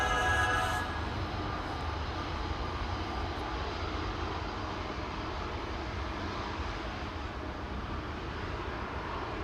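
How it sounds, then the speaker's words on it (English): KLM long-distance airliner at Amsterdam Schiphol Airport, a steady distant jet engine roar spanning the whole stretch, fading slightly, with no voices. "This is KLM flight 597 to Cape Town in South."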